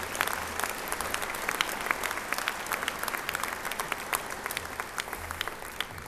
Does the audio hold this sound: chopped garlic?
no